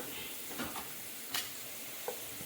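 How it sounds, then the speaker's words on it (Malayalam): Ginger frying in hot oil, a steady bright sizzle with occasional soft stirring scrapes in the pan, close and moderately quiet, with no talking. "ഇഞ്ചി വറുത്തെടുത്തു"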